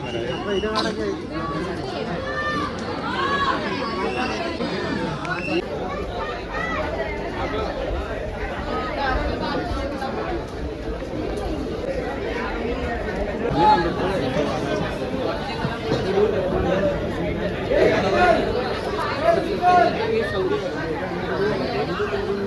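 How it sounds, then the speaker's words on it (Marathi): A dense crowd at the Lalbaug and Chinchpokli Ganpati darshan in Mumbai, a steady roar of overlapping chatter and babble that fills the whole stretch with no single voice standing out. "खूप गर्दी आहे"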